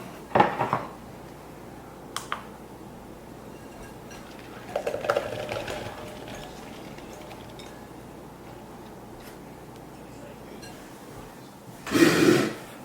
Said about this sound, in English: we're just going to chop this thing up, little pieces like that